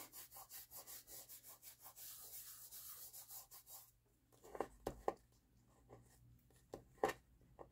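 Loose paper pieces rubbed off a grungy journal background by hand, a steady run of close, quiet scratchy strokes giving way to sparser, sharper rubs and scuffs.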